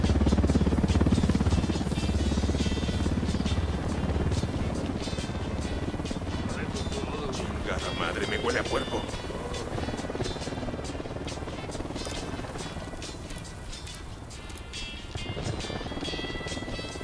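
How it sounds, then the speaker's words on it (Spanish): A helicopter in the Ghost Recon Wildlands video game drones steadily with a buzzing rotor throughout, while voices shout over the noise in a tense firefight. "Un helicóptero de la unidad. ¡Al suelo, helicóptero!"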